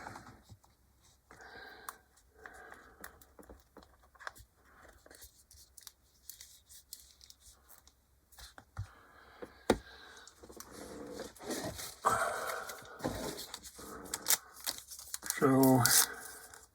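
Snips and crinkling as small plastic parts are cut from the sprues of an HK Models 1/48 B-25J kit, irregular close clicks and rustles that grow busier toward the end, with a person talking intermittently.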